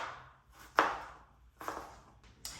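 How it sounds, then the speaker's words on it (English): A knife finely chopping and dicing ingredients for a steak-bite dipping sauce, giving three or four separate sharp board strikes spaced about a second apart, fairly close and with no talking. "I'm just gonna cut these really small and finely chopped, diced"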